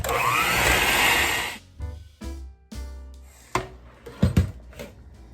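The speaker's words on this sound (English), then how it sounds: "We're going to blend it on medium speed just until each one is blended" An electric hand mixer whirs loudly for about a second and a half while blending eggs into gluten-free chocolate chip cookie batter, then cuts off, leaving clinks and knocks of the bowl and utensils.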